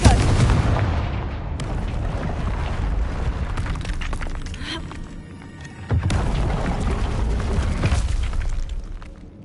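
Confringo fire spell blasts in the Hogwarts Legacy video game, loud booming explosive bursts with rumbling roars, two strong hits separated by sustained crackling noise.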